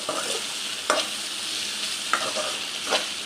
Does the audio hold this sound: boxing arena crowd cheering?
no